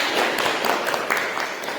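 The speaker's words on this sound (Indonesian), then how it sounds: "tepuk tangan untuk Nabila ya" A classroom of students claps for a classmate, a short burst of close, brisk applause that holds steady for under two seconds.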